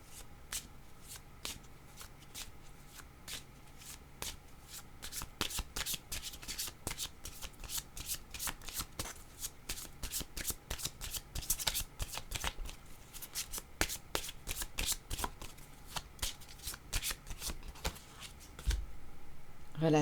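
A tarot deck is shuffled up close, a fast, continuous patter of crisp card clicks and riffles running steadily for about twenty seconds.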